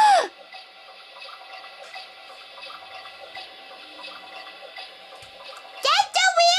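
A Baby Alive toy washing machine running, a steady electronic whirring hum with ticking, then a rising-and-falling melodic chime near the end. A voice is heard at the start.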